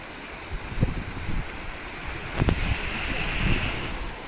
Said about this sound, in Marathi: ती लाटा कसली आपटतात बघा तिकडे.